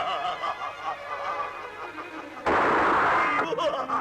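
Gunfire rings out in a Hindi romantic horror film as shots are fired at a sorcerer. A loud, rough, sustained burst of shots erupts partway through, following a quieter stretch of atmospheric sound.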